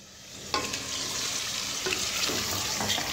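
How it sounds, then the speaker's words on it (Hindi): Chicken fries over high flame in a thick masala for Hyderabadi chicken, a close, constant sizzle broken by a few sharp stirring scrapes and knocks. "और चिकन ऐड करने के बाद इसे अच्छे से भून लेंगे।"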